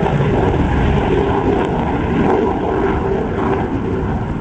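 A loud, continuous engine roar from a MiG-17 jet fighter overhead at an airshow, steady and broadband with wind rumble, no voices.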